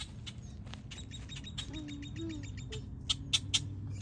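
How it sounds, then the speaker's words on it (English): An agitated mother bird calls in sharp, repeated chirps near a found baby bird, with a few louder calls toward the end over steady outdoor background noise. "That bird right there is going nuts"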